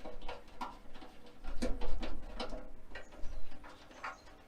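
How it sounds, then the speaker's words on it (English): Metal screws being undone with a screwdriver on a Big Horn pellet pizza oven, giving scattered close clicks and ratcheting scrapes at an irregular pace with no talking. "it looks like I got to undo these screws, which is why I got the screwdriver to start with"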